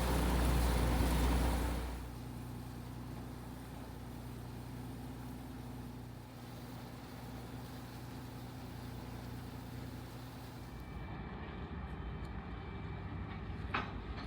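Ferry ship Momokaze departing Michigoe Port on an island in Onomichi, heard as a steady low engine drone and rumble over water, loud and near at first, then settling into a continuous hum with faint clanks.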